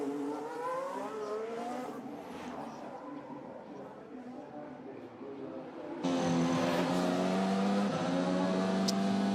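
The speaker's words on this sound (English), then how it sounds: "So on board with Liam Lawson a few moments ago" A Formula 1 car heard from onboard at Monaco during practice screams through rising and falling engine notes with gear shifts, loud and close, growing harsher in the final seconds.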